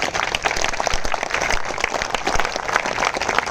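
Applause from a crowd at a hunger-strike protest gathering, a loud, dense and continuous patter of clapping close by, with no talk over it.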